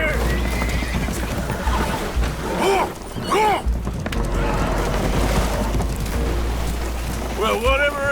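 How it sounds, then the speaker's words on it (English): Spooked horses neighing aboard a leaking boat in the Red Dead Redemption 2 video game, with several loud, frantic whinnies rising over churning water and creaking hull noise, close and mixed with some voices. "Horses are spooked, and we're taking on water."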